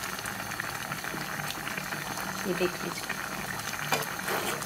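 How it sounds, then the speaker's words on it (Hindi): A pot of quince and brinjal curry simmers on a gas stove, giving a steady low bubbling hiss, while someone briefly speaks over it. "ये 10 मिनट से उबल रहा है"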